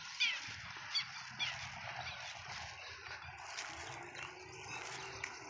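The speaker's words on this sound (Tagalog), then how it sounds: "Nagliliparang ibon." Birds honk and call in short bursts overhead in Saudi Arabia, faint against a low outdoor background hum.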